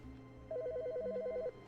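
In the video game The Stanley Parable: Ultra Deluxe, a telephone gives one rapid trilling electronic ring burst for about a second over a low background hum, with no talk during it.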